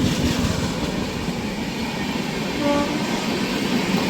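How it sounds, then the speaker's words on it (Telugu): MEMU passenger train on the Vijayawada–Rajahmundry line as a train passes on the adjacent track at night, a continuous rumbling rush of rolling stock with a faint brief tonal whine partway through, steady and close. "మనకి పక్క ట్రాక్లో ఏదో ఒక ట్రైన్ అయితే వస్తుంది"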